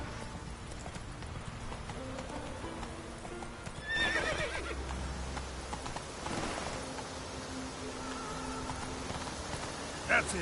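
Horse in The Witcher 3 video game snorting and whinnying amid constant ambient game noise and faint rain-like hiss, with a louder burst near the middle; a voice talks softly at times.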